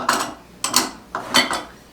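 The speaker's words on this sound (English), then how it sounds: "we're going to take these dry ingredients and we're going to put them in with the wet ingredients" Dry carrot muffin ingredients are tipped into a bowl of wet ingredients, making three quick scraping knocks of a utensil against the bowl, close and fairly loud, with brief pauses between them.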